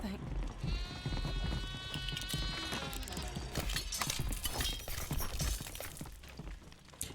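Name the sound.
goat bleating in video game Sker Ritual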